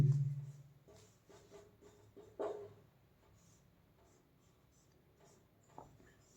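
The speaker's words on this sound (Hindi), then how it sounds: "तो बिना दिमाग लगाए हुए चुपचाप इसको लिख दीजिए" Writing out a complex numbers math problem, a soft pen or marker scratching in short strokes and taps, faint and close, after a brief low sound at the start.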